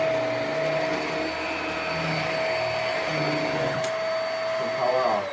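A Hoover MaxLife Pro Pet Swivel HEPA upright vacuum cleaner runs with a constant loud motor whine close by, then a brief clatter as it winds down at the end.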